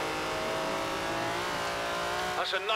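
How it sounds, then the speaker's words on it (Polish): Engine of an old racing car roars steadily in the Forza Horizon 4 racing game, a continuous loud drone with a rising rev and a brief tire squeal near the end, with no talk over it. "Dziewięćdziesięcioletni samochód wyścigowy"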